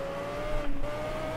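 A racing car in the video game Project Cars skids, a steady engine tone running throughout with a brief rougher tire-scrub burst near the middle, loud and close, no talk.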